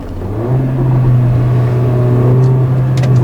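Steady, loud engine hum from a 2015 Mercedes-Benz GLA 45 AMG under load, holding one pitch, with a few faint clicks and pops near the end.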